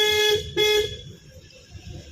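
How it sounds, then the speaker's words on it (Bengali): A car horn honks twice in short bursts on a local road during beginner driving practice, near and loud, followed by low engine and traffic rumble. "হর্ন দিতেই দে, হর্ন কোনো সময় বন্ধ থাকবে না"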